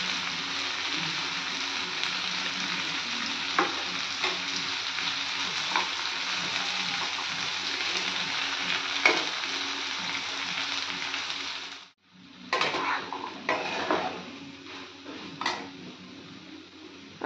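Ground paste of poppy seed, green chilli and garlic sizzling loudly in a hot pan, with steady frying hiss and clinks of a spoon stirring, a brief drop in sound midway before the sizzle and scraping resume.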